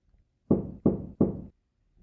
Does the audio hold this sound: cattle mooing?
no